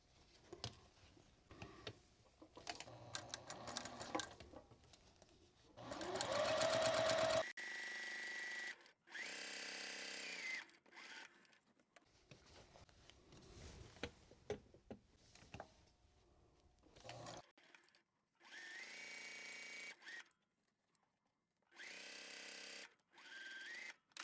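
Sewing machine running a quarter-inch seam on a quilting project, with several bursts of steady, fast stitching separated by pauses and quieter handling sounds, close and alone with no talk.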